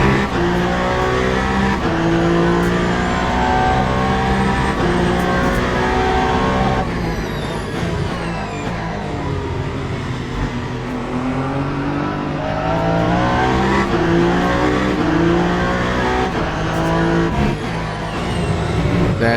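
A GT race car in the Le Mans Ultimate video game at the 8 Hours of Bahrain, its engine roaring loud and continuous as it accelerates hard down the start-finish straight, pitch climbing through gear changes.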